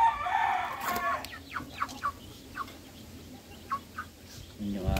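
Hens and a rooster in a laying coop, a burst of clucking at the start followed by scattered short calls and squawks, fairly close and moderately quiet.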